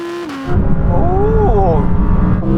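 Audi R8s of different generations, including a GT and a Spider, accelerate hard from 50 mph in a rolling drag race, a loud close engine roar rising in pitch over a deep rumble.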